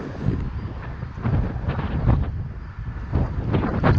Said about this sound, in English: So we've got a pretty windy afternoon